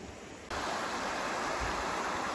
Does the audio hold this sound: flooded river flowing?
yes